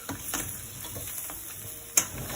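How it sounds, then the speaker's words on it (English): Coconut milk goes into a pan of crab sukka, giving a faint, steady sizzle broken by a few soft ticks and stirring knocks, with one sharper clink near the end. "add my last ingredient, which is coconut milk"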